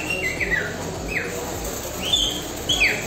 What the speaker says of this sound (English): I now need one of these toy birds.